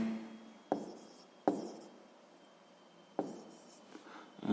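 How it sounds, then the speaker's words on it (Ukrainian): Pen writing out the answer to a sixth-grade math exercise on paper, with a few quiet scratchy strokes and sharp taps set apart by pauses, close and faint, with no voices. "Записуємо тоді відповідь."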